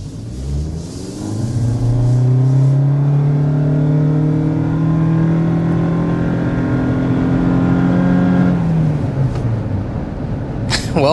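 A 2024 Toyota Prius XLE all-wheel-drive hybrid accelerating, heard from inside as a loud engine drone whose tone climbs steadily for several seconds, then settles as the pull eases.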